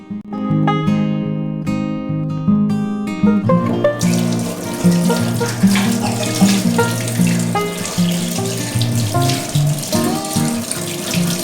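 Smoked mackerel being rinsed under a running kitchen tap, a steady rush of water splashing into a sink that grows fuller and louder after a few seconds, with music playing underneath throughout.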